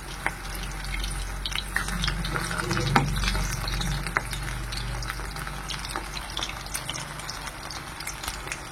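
Chicken pakoras deep-frying in hot oil at home give off a steady, close sizzle with scattered small pops and crackles, with no voices.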